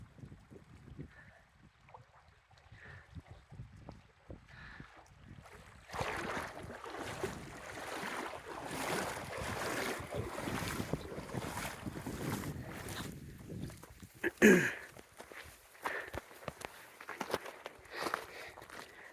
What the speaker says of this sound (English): In the middle of another river crossing.